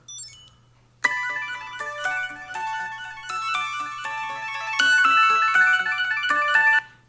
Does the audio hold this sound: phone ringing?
yes